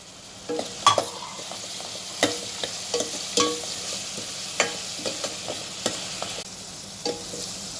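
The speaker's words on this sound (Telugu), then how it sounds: "ఇవి లైట్గా వేగినాయి" Green chillies and curry leaves fry in hot oil while being stirred, with a steady close sizzle broken by repeated scraping and clinking of the spoon against the pan, no voices.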